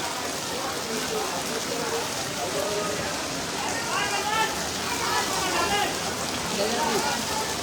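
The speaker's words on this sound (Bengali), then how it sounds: "দেখছেন কি পরিমাণ বৃষ্টি হইতেছে" Heavy rain pours down steadily at a cattle market, a dense unbroken hiss of water hitting surfaces, with a voice speaking faintly beneath it.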